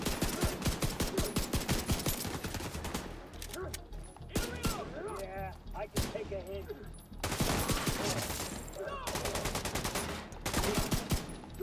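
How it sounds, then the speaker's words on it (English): Blind-fired gunfire in The Division 2, rapid bursts of automatic shots in dense rattling volleys, pausing briefly between bursts, loud and close. "Blind firing, of course, is always handy."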